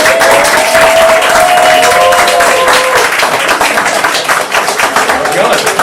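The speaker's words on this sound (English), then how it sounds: "Give them a big round of applause." A big round of applause and clapping from a crowd at an office team meeting of home inspectors, loud and dense throughout, with voices calling out over it early on before the clapping thins slightly toward the end.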